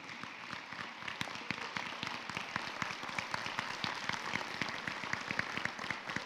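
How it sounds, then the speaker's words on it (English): A crowd claps steadily, many hands striking in a dense, even patter that holds at a moderate level throughout, with no voices over it. "give them a big round of applause."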